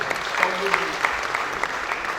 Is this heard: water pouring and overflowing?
no